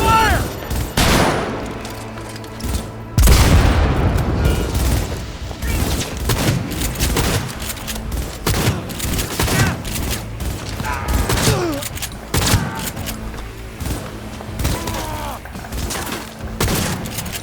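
Sustained gunfire bursts from the video game Cyberpunk 2077, set in the Arasaka Tower, with loud rapid volleys and booms running nearly throughout amid mechanical clanks, with shouting voices mixed in.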